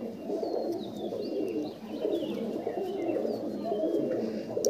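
Pigeons in a loft coo in a steady, layered low murmur, with faint chirps and thin whistles scattered above, moderately quiet and without talk.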